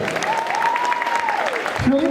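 An audience at a cosplay contest's jury presentation claps in a dense, even patter, with a voice rising above it and then a lower voice near the end.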